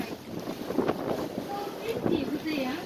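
Wind gusts across a microphone at an outdoor flea market, a steady rough rumble with swelling bursts, while people talk nearby.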